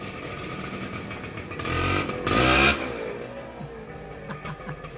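A Vespa PX scooter approaches on the street, its engine note rising and swelling loudly for a moment as it arrives, then settling back into a quieter idle amid background traffic.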